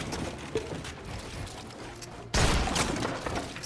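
A training bot on a practice map in a shooter video game fires at the player, giving dense bursts of gunfire with mechanical clatter that jump sharply louder partway through, with no voices.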